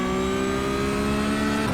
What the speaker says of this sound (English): we can go full throttle through here.